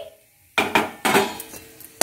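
Filling for a Bengali-style bhetki fish chop tipped out of a pan after cooking, giving a few sharp metallic scrapes and clinks of a spoon against the pan, spaced irregularly and close by.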